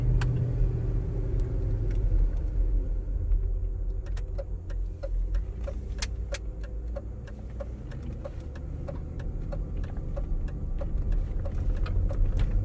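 A Range Rover Vogue engine hums steadily while driving, a low continuous rumble with faint rattles and ticks over it, fairly loud and close from inside the cabin.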